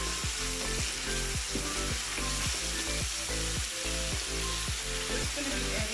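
Chili and curry leaves frying in about 150 ml of oil while being stirred for a lamb curry, a loud continuous sizzle with regular scraping stirs of a spoon across the pan, close and alone.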